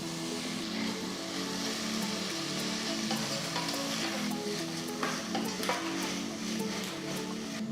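Two medium-sized chopped tomatoes sizzle steadily in a hot pan, a dense continuous frying hiss with faint stirring clicks, close and even throughout, no voices.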